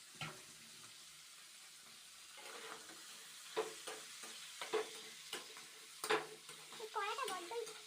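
Fish curry with potatoes being stirred in a frying pan: quiet at first, then a run of scraping, clattering stirs over a low sizzle, growing busier toward the end.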